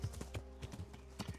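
In Kingdom Come Deliverance, a horse's hooves clip-clop in a steady walking rhythm, soft and fairly close, over a low background hum.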